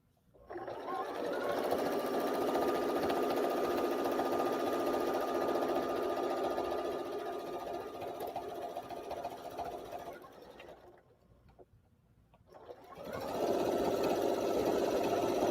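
A sewing machine runs continuously and steadily for free motion quilting, a loud close mechanical whir that dips briefly and stops, then starts again at full speed.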